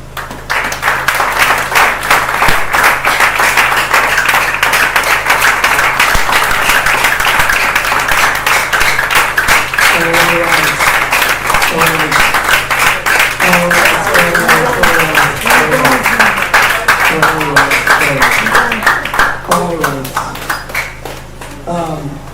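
An audience at a cricket coaching and player performance clinic claps in a long, continuous burst of sharp, rapid hand claps, with voices talking over the clapping in the second half.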